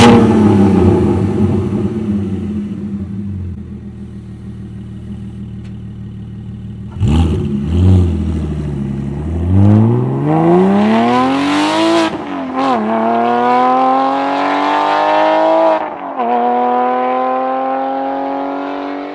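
A Porsche 718 4.0 flat-six breathing through an aftermarket exhaust idles, then revs up in repeated rising sweeps, climbing to loud high-rpm peaks with sharp blips and drops before settling into a sustained high rev, close and very loud.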